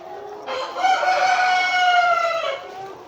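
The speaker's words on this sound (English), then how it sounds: "You could see how big these birds are." A rooster crows loudly and close by in one long, drawn-out call, with hens clucking softly around it, on a caged layer and broiler farm.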